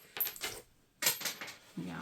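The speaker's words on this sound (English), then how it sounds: "so my change is falling out." Coins drop and clink in a few short metallic bursts, close by, falling from an open zipper change pouch, followed by a low rustle at the end.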